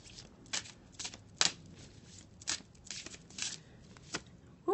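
Goddess oracle cards being shuffled by hand in a quiet room, a series of short papery riffling bursts spaced irregularly about half a second to a second apart, close and clear with no talk.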